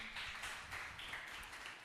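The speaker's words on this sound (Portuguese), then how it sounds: "Vamos aplaudir." Church congregation applauding after a testimony, a soft, distant, continuous wash of clapping without distinct individual claps.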